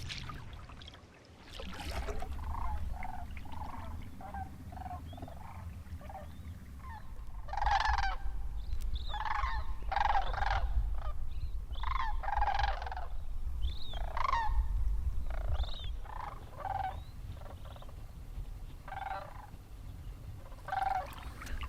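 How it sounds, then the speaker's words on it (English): Two big flocks of sandhill cranes call overhead in the northern wilderness, a chorus of rolling, trumpeting croaks repeating across the whole stretch, moderately distant over a low steady rumble. "There were 2 separate flocks, pretty big, of sandhill cranes right above me."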